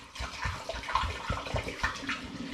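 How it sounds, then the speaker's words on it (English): Pineapple and mango wine pouring through a funnel into a cleaned glass demijohn, a steady close gurgling splash of liquid running continuously throughout. "I'm just going to simply pour it now back into the original demijohn, which I've cleaned out"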